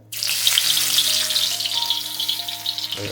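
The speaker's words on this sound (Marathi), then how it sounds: "तेल गरम करत तव्यात मध्ये घालते बिलजी" Fish sizzles in hot oil in a tava, a steady, loud, dense crackle that starts abruptly and keeps going for about three seconds with no voices.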